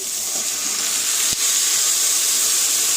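Tomatoes and spices tipped onto frying onions in a pan, a loud steady steamy hiss and sizzle with a single sharp clunk partway through; no voices.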